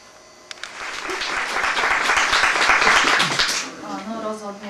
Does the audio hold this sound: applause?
yes